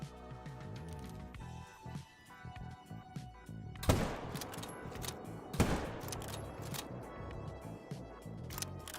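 Hunting rifle shots in Call of the Wild, two sharp loud cracks a couple of seconds apart over a busy outdoor game ambience, with faint speech around them.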